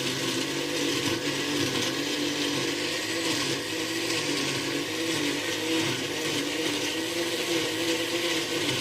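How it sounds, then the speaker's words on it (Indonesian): A blender grinding rendang spice paste with cooking oil, a steady loud whirring motor churning the thick mixture without pause, no voices over it. "saya mau blender supaya lebih cepat ya"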